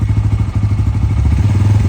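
An N160 motorcycle engine idling up close with a steady, loud, rhythmic chugging pulse, a sensor being swapped on the bike during a repair for loss of power and stalling.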